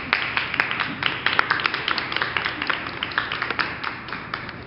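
Audience applause at a Black Fashion Week panel, steady crowd clapping with dense overlapping claps lasting throughout, moderately loud and fairly close.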